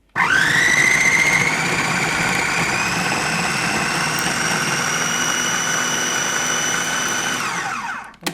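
A blender whirs loudly while mixing a green smoothie with coconut oil, spinning up fast with a rising whine, holding a steady strained drone for several seconds, then winding down to a stop.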